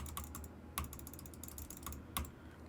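Quiet computer keyboard typing with scattered sharp mouse clicks, a few louder taps standing out, close by against a faint low hum.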